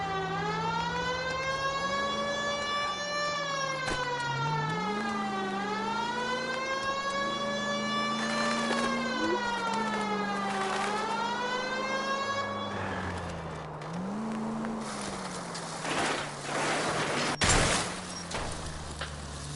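Police car siren from the game L.A. Noire wailing loudly and continuously, its pitch sweeping up and down in repeated rising and falling cycles before breaking into noisier bursts near the end.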